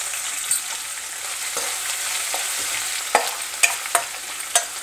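Dried red chillies and crushed garlic sizzle in hot oil in a pan, a steady bright crackle with a few sharp spatters and stirring taps toward the end, close and without speech.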